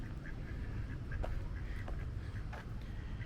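A mallard duck quacks faintly a few times in a wooded spot in Tennessee on a cloudy day, short quacks rising over a low, rumbling outdoor background.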